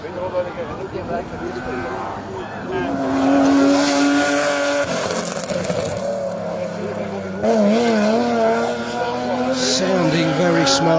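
A BMW E36 rally car roars past on a special stage of Rally Wervik, its engine note rising and falling loudly through gear changes, with a commentator talking over it.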